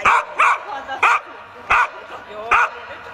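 Small dog barking and yapping in sharp repeated bursts, about five barks spaced unevenly over a few seconds, close and loud, during a Finnish Lapphund temperament test.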